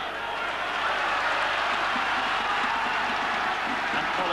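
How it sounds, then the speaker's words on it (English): A football crowd of travelling Staffordshire supporters at a 1991-92 match makes a steady, broad roar that holds constant and fairly loud throughout, with no clear voice standing out. "Certainly the crowd from Staffordshire beginning to build up the noise."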